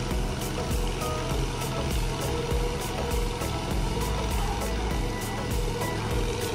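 Walk-behind MR-1 lawn mower engine running in first gear while cutting grass, a steady loud mechanical drone with a rapid regular pulsing throughout, no voices.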